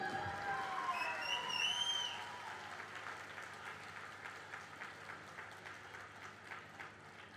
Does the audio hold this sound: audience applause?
yes